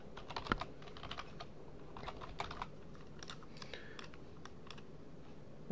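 Quiet, close typing on a computer keyboard, a quick irregular run of soft key clicks with brief pauses, no voice.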